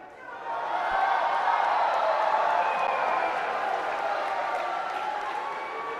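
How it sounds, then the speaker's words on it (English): A large crowd at a 2024 Reyes Cup pool final cheers and applauds, a loud sustained roar of clapping and shouts that swells quickly and holds before easing slightly. "This crowd are waiting to exhale, cheering every ball potted now"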